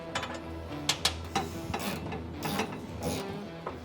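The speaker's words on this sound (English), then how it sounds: "he's screwing in a bolt" A bolt and nut are tightened into a car's core support in a shop, with quick ratcheting clicks and metallic taps in short bursts over a steady background hum, close by with no talking.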